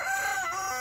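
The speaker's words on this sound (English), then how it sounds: "this chicken laid her first egg yesterday." A young hen that has just laid her first egg gives a short, close, loud drawn-out cackle with no talking.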